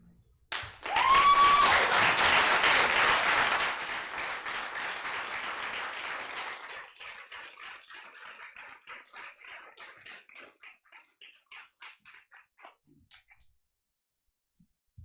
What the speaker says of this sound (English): Y'all didn't have to stop clapping.